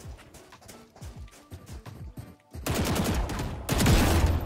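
Guardian rifle fire in Valorant, rapid sharp single shots over game ambience, growing louder and denser toward the end with heavier bursts.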